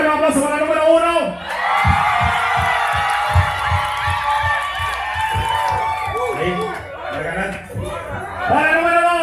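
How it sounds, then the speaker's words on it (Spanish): An audience at a dance contest cheers and applauds a dancer: loud whoops, shouts and dense cheering from a lively crowd, with a rhythmic clapping pulse underneath, close and sustained, swelling again near the end. "¡Fuerte el aplauso para el número uno!"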